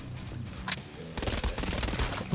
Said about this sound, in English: Fully automatic pistol.